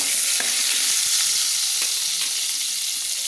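Vegetables and salt are stirred in a frying pan for vegetable khichuri, giving a steady, close sizzle with faint scraping of the spoon throughout and no talking.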